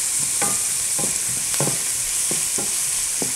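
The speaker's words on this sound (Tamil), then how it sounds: "லார்ஜ் ஆனியனை நீங்கள் கட் பண்ணி வதக்கிட்டு இருக்கோம் இப்போ" A large cut onion sautés in a pan for chicken kuzhambu, a steady broadband sizzle with about seven spaced scraping stirs of a spatula, close and continuous, with no talking.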